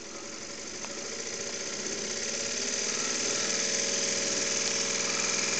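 Refurbished Stuart Turner V Twin engine running steadily, its fast, even chugging beat building slightly in loudness over a few seconds, close and alone.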